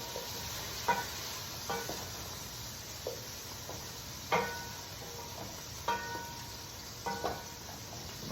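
Meatballs fry in a pan with a steady soft sizzle, broken by scattered sharper scrapes and clacks as they are stirred and flipped. No one speaks.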